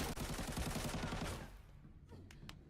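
Sniper and automatic gunfire from the video game Arena Breakout cracks in a quick rhythmic burst of shots. A few fainter, scattered shots follow as the firing dies down.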